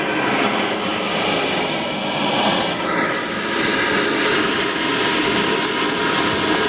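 A Hangar 9 Aermacchi MB-339 model jet's turbine engine runs on the ground, a loud, continuous roaring whine with a steady high-pitched hiss, close and unbroken for several seconds with no talk.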